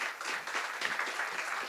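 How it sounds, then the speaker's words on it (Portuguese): Audience applause welcoming a speaker onto the stage at a women's entrepreneurship event, a brief, fairly faint patter of many hands clapping. "Uma salva de palmas."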